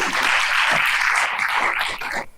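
Dense, steady applause from an audience at a university homecoming day corporate presentation, many hands clapping continuously before tapering off at the end.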